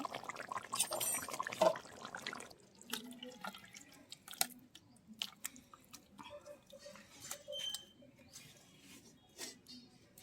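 Rohu fish and potato curry is poured from a pan, giving soft wet splashing and dripping with scattered small clinks, fairly quiet and close with no talk.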